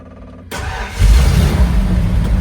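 A 1951 Ford pickup truck cranks and fires on a cold start after sitting, the engine catching after half a second and settling into a loud, rough idle.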